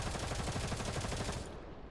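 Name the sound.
gunfire in video game Girls' Frontline 2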